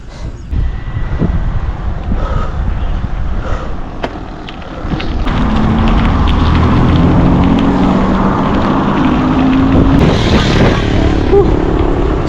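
Motorbike engine droning steadily while riding, with heavy wind rush over the microphone; the engine swells louder around halfway as speed builds, close and continuous.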